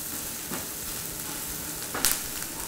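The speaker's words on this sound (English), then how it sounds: "I'm just going to saute it all together until I start to see the orzo turning just barely golden brown" Orzo sautés in a pan as the start of a risotto-style pilaf, making a continuous, fairly quiet sizzle with a couple of brief stirring scrapes and no talking.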